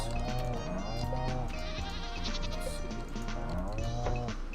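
Goats bleat repeatedly in Stardew Valley, a run of overlapping farm-animal cries over steady game music, with faint talk in the background.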